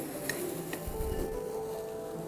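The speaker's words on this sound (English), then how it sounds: "We have to sear the lamb loin from all the sides." Lamb loin searing in a hot pan, a steady low sizzle and crackle running throughout with a few faint metallic clinks of utensils against the pan.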